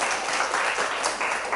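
A lecture audience in Daegu applauds a speaker, steady broadband clapping across the whole short stretch at moderate level, no voices standing out.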